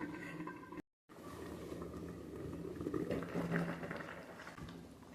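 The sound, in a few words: Assamese fish curry with tomato boiling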